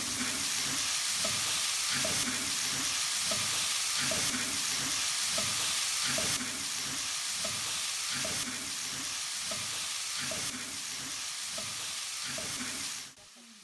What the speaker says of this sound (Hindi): पीसी हुई काली मिर्च, नमक और ओस्टर सॉस डालकर 3-4 मिनट फ्राई करें।